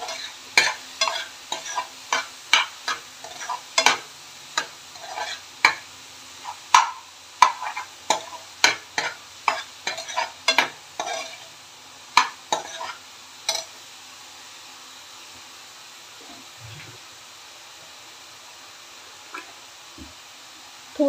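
Food frying in a pan with salt while being stirred, a run of sharp, close clacks and scrapes of the spoon over a soft sizzle for about fourteen seconds, then near quiet with faint scattered sounds.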